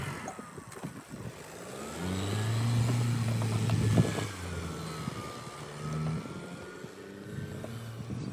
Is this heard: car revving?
yes